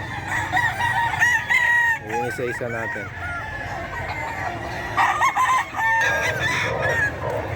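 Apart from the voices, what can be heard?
chickens and roosters crowing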